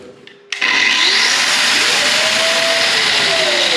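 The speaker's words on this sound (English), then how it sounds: "when the power's drawn from this, it turns the hoover on." A Trend vacuum cleaner, set to switch on with a power tool during a house rewire, kicks on abruptly after a brief quiet moment and runs as a loud, close, steady roar with a whining motor tone that rises in pitch.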